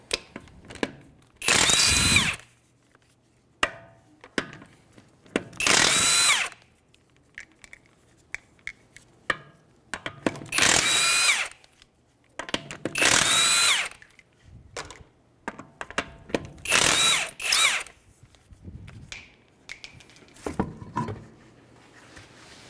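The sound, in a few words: impact wrench with 21mm socket removing wheel lug nuts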